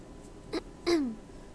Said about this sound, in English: heard Naomi, another one of my best friends, clearing her throat in obvious disapproval of Suzu's choice of words.